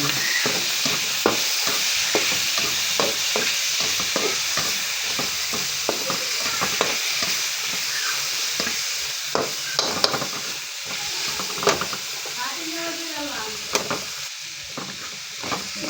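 Sautéed onions for pakbet being stirred in a pan: a continuous hiss of frying, punctuated by frequent quick scrapes and taps of a utensil against the pan, close and fairly loud, with no voices.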